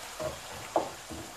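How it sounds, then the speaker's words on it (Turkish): Eggplant filling sautés in olive oil in a pan, with a soft, quiet sizzle and a few gentle stirring scrapes, one brief clink standing out midway. "Kavuruyorum güzel bir şekilde."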